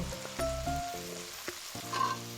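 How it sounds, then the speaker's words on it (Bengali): Spice paste and chopped tomato sizzle in a hot pan as they are stir-fried for a fish curry, a steady frying hiss broken by brief scraping stirs, with a tonal hum underneath. "তারপর কেটে রাখা টমেটো দিয়ে আর একটু ভালোভাবে নেড়ে চেড়ে কষিয়ে নেব"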